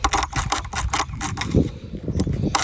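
Short bursts of dry graphite lubricant sprayed into the ignition switch of a 2022 Honda Grom motorcycle: several quick, sharp hissing puffs close by, repeated in a broken rhythm.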